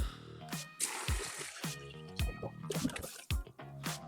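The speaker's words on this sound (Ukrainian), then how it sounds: "Так, і заливаємо свіжою водичкою." Fresh cold water poured over cucumbers in a container, producing close, soft splashing, dribbling and sloshing in irregular bursts at low volume.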